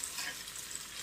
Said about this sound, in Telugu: ఎరుపు రంగు గోల్డెన్ కలర్ వచ్చేలాగా ఈ ఉల్లిపాయ ముక్కలను వేయించుకోవాలి.